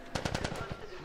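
A quick burst of about half a dozen rapid gunshots rattles out in The Last of Us video game, fairly faint and over in about a second.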